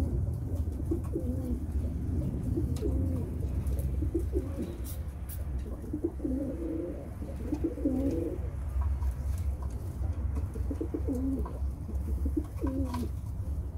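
Pet pigeons coo outdoors, soft low rolling calls repeating in short bursts at moderate distance over a faint background hum, with no talking.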